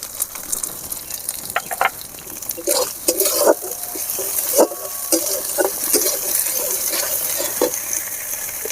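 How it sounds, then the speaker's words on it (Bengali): Ginger, garlic and turmeric frying and being stirred in a pan for a Bengali katla fish kalia, a steady sizzle under scattered scraping and clinks of the spoon against the pan, fairly close and even throughout. "আদা রসুন ভালো করে ভেজে নিতে হবে।"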